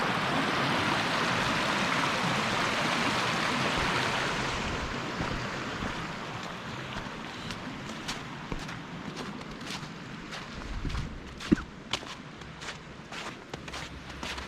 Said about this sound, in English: white water flowing right there